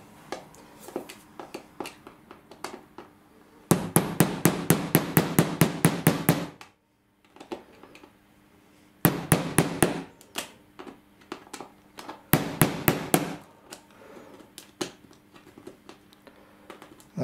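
Light, quick hammer taps on a model railway track come in three separate bursts of rapid, evenly spaced strikes, close and fairly quiet, with brief silences between them.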